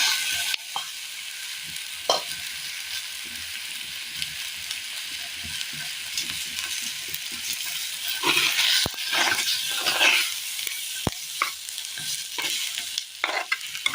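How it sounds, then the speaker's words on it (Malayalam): Cooked plantain pieces being stirred into a hot sizzling pan in a Kerala kitchen, a continuous frying hiss under repeated scraping strokes of a spoon, with a few louder clatters toward the end. "ഇതിനകത്തേക്ക് വേവിച്ച് വെച്ചിരിക്കുന്ന കായ കൂടി ചേർത്ത് കൊടുക്കാം"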